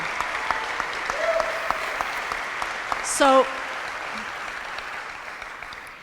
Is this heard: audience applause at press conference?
yes